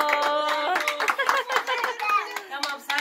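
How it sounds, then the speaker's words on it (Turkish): Small group clapping at a three-year-old's birthday party, quick light claps mixed with adults and children talking and cheering over them. "Alkış."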